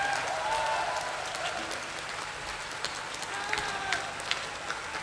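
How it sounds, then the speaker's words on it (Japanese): A concert audience at the Hibiya open-air venue applauds: dense, sustained clapping from a large crowd outdoors, with sharper individual claps standing out and a voice faintly present. "だから今日は拍手で彼を迎えてください。"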